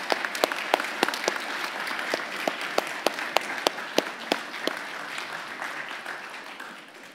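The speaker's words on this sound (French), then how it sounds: "On peut les applaudir." A congregation applauds during a Sunday church service, with steady overlapping clapping and a few sharp nearby claps standing out, tapering off toward the end.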